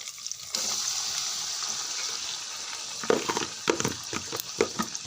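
Chicken added to fried onions in a pan for chicken curry sets off a sudden, steady sizzle, followed by a few scraping stirs near the end, with no talking.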